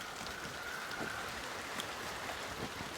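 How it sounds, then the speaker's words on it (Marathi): Evening rain begins to fall in Deogad, a steady soft hiss of drops with occasional louder patters, continuous and moderately faint with no talk. "आता पावसाची सुरुवात झाली"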